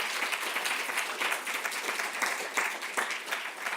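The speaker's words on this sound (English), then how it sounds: "perhaps we can give them one more round of applause" Audience applause at a conference session on preparedness, a steady, dense clapping from a seated crowd that holds at an even level from start to finish without any talk.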